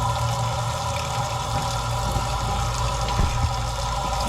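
Water rushes steadily through an engine block after the freeze plugs have been pulled, a continuous close gushing and splashing with a few small knocks near the end.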